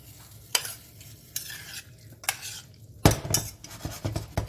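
Corn in tomato sauce being stirred in a pan on an electric hob, with sharp clinks and scrapes of a utensil against the pan over a soft bubbling sizzle, close up.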